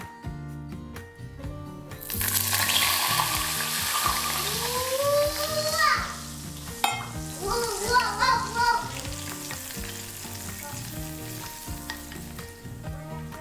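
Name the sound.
hot oil poured over soy sauce and vinegar, sizzling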